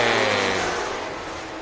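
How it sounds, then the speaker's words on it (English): Stock cars at Crawford County Speedway roar past close by in a loud, dense burst of engine noise that slowly fades away. "We are stock car racing."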